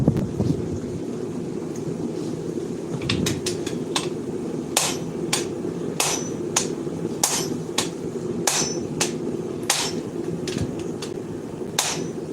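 Hammer blows forging a Viking seax, sharp ringing metal strikes falling at an irregular pace over a constant background roar, loud and close.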